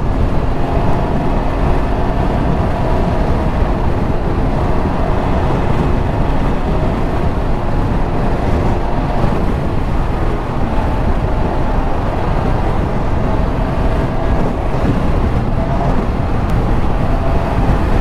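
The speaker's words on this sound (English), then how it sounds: "The traffic is heavy, but the traffic is not going 70 miles an hour either." A Can-Am Ryker Sport three-wheeled motorcycle cruises through heavy Austin traffic at around 50 to 60 mph, a steady loud roar of engine, wind and road noise with no breaks.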